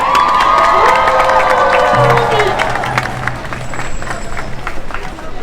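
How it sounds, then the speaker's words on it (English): An outdoor pro-Palestinian protest crowd in Leeds cheers and claps for a young girl about to recite a poem, with whoops, shouts and scattered applause, loud at first and then easing under ongoing crowd noise. "So everybody, round of applause for Isla, please."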